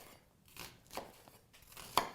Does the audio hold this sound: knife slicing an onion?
yes